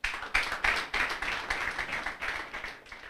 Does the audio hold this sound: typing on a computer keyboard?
no